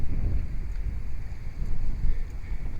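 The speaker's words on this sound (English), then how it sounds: "Very windy today. The wind's going to be blowing me all over the road." Strong wind buffeting the microphone during an outdoor ride, a rumbling, fluttering low roar that rises and falls in gusts throughout, with no speech.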